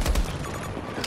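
Gunfire in the shooter game Battlefield 2042, Breakthrough mode: a quick close burst of several rapid shots, loud at the start and again at the end, with no talk.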